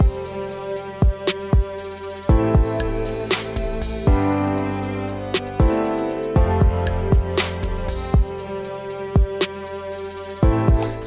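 A pop-style beat with closed hi-hats and crashes layered over open hats, kicks and sustained synth chords. Rapid ticking hats run in bursts while bright crash swells and punchy kicks recur steadily, with no vocals.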